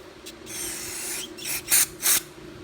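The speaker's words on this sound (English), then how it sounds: "I should probably spray down in here." Short hissing bursts of aerosol cleaner sprayed into the carburetor of a Honda HRB215 lawnmower, one longer spray followed by several quick sharp blasts close up.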